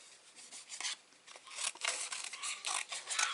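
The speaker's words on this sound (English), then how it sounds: "let's get my little scissors on the go" Small scissors snip paper repeatedly while making a card, quick, close crisp cuts with a brief rustle between strokes, with no voices.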